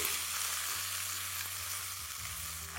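Okra shallow frying in oil on a high flame makes a steady, even sizzle with faint stirring, heard alone and fairly quiet throughout.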